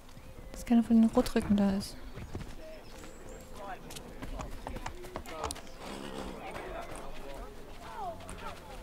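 Horse hooves clip-clop through city streets in Assassin's Creed 3, a steady trot heard beneath someone talking throughout, with a few louder tonal game sounds near the start.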